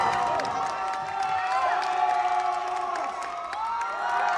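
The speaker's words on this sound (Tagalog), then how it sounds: "Hiyawan ng mga Pinoy audience" Filipino spectrators at a SEA Games jiu-jitsu match in the women's 48 kg division cheer and shout loudly, a sustained crowd roar with high voices and some clapping.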